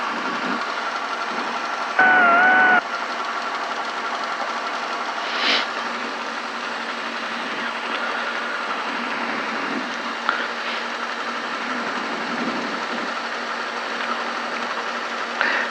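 A Robinson R22 helicopter engine runs steadily through its warm-up, a constant droning hum heard from inside the cockpit, with a brief tone at one point and a few faint knocks.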